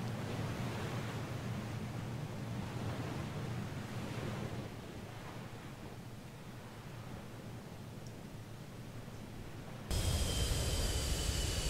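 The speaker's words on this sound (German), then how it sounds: "die Gischt und auch hier vorne die Wellen, die hochspritzen" Ocean waves and sea spray in the combat flight game Digital Combat Simulator, a steady, broad rushing surf with no voices that turns louder and harsher near the end.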